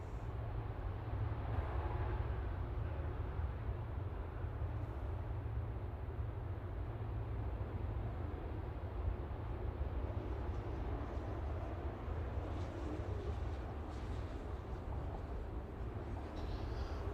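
A Boeing 787-8 Dreamliner, TUI flight 157 bound for Punta Cana, rolls at Manchester Airport with a continuous low, rumbling engine roar that holds steady and fairly loud throughout.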